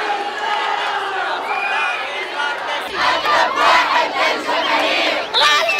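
A large protest crowd outside the US embassy in Tunis chants slogans loudly in unison, a dense roar of many voices rising in rhythmic surges, with shouting growing stronger midway.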